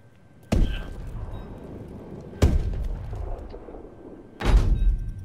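Three heavy blasts from thrown grenades in the shooter Call of Duty: Advanced Warfare, each a sharp thudding boom with a rumbling tail, spaced about two seconds apart, loud over quiet game ambience.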